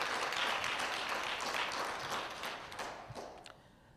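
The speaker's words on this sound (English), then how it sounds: "Let's give him another well-deserved round of applause." An audience breaks into a round of applause, dense clapping at first that thins out and fades to a few scattered claps by the end.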